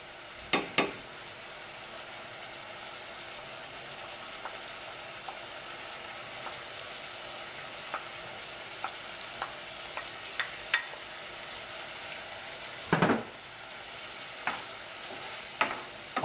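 Green peppers being stirred and frying in a hot pan: a quiet continuous sizzle under sharp, sporadic clatters and scrapes of utensil against pan, close by and with no talking.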